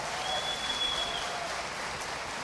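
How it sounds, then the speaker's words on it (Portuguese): Worshippers applaud a church choir at a Hanukkah service, with steady, even clapping filling the room and a faint high tone briefly audible beneath it. "Vamos dar um aplauso ao Senhor pelo coral."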